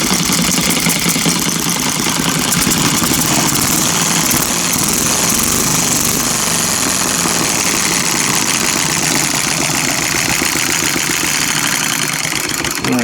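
A miniature hit-and-miss engine running steadily after a piston ring rebuild, loud and close, with a continuous rapid chugging and mechanical rattle throughout, no speech.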